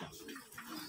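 Pigeons coo softly at close range while being bathed in water, a brief, low, murmuring call with no voices.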